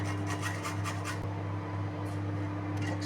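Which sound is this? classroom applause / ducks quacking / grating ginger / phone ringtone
grating ginger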